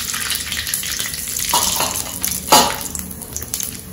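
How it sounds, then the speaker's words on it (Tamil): Mustard seeds spluttering and popping in hot oil for curd upma, a close, busy sizzle with sharp crackling bursts, one especially loud pop near the end. "கடுகு நல்லா பொரியணும்."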